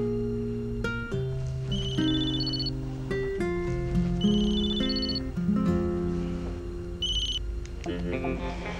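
A telephone rings with a melodic electronic ringtone, repeating a pattern of tones continuously throughout at steady volume, with no voices.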